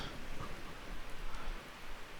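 Steady, dense patter of rain in the video game Miscreated, a soft continuous hiss with no other sounds.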